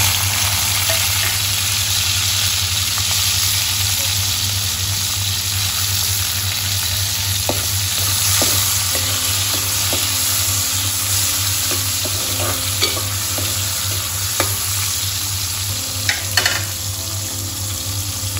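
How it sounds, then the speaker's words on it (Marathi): Tomatoes frying with reddened garlic in a pan for an Agri-style crab curry give a steady, close, continuous sizzle, with light stirring scrapes now and then. "लसूण थोडा लाल झाला आहे, आता मी टोमॅटो टाकते"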